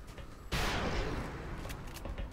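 A sudden burst of rapid-fire gunshots in the XCOM: Enemy Unknown strategy game erupts and rolls on as a dense, fading volley, fairly quiet overall, with no talk.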